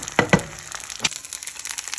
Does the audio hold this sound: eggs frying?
yes